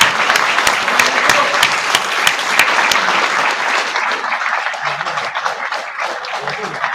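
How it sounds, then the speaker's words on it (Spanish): Loud crowd applause from a conference audience that dies down after a few seconds and gives way to quieter room sound with faint voices. "Un aplauso."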